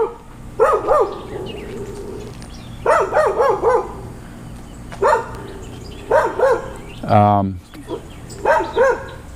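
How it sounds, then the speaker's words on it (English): Farm dogs barking in short bursts, several groups of sharp barks with pauses between, plus a brief yelp-like whine, fairly close and loud while someone talks throughout. "got dogs all over like a typical farm"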